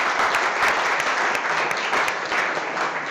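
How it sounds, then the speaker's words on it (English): A crowd at a chef showdown event claps loudly and continuously, a dense, even burst of applause from many people filling the few seconds, with no talk on top. "Let's give a big round of applause to Uriah's Urban Farms."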